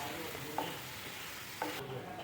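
Green chillies and curry leaves fry in oil with a soft, steady sizzle, broken by two light knocks of stirring on the pan.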